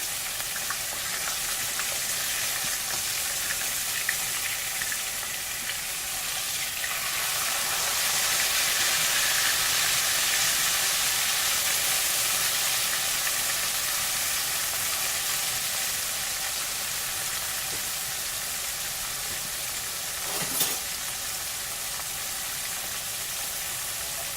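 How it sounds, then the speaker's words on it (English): Liver fries gently in a pan, giving a constant close hiss and sizzle that swells a little midway, with a brief knock near the end. "I don't want it tough, so I don't want to fry it too hard"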